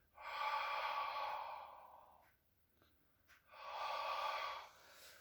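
Slow, deep breaths during a postural exercise come close and clear: a long exhale, a pause with soft sounds, then another drawn-out breath.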